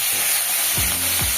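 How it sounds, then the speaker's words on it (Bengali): Bata fish frying in hot oil, a steady broadband sizzle throughout with a couple of brief low scraping or stirring sounds near the end, close and fairly loud, no talking. "এখন বাটা মাছটা ভাজা হচ্ছে।"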